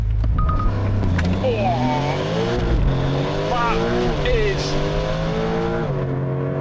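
A 2021 Porsche 911 Turbo S accelerates hard from a standstill, its engine note climbing through several quick gear changes, loud and close, with a person talking over it.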